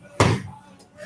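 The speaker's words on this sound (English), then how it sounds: "Offset slams, the hardest of the slams." A weighted ball slammed to the floor during an offset slam exercise in a workout gives one sharp, heavy thud close by, then a quiet room.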